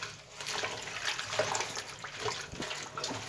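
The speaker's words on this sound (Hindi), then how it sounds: "ये देखिए साफ पानी में ऐसे इसको धो लेते हैं अच्छी तरह से।" Green chickpea leaves and spinach being washed by hand in clean water, with a steady soft splashing and sloshing and no talk.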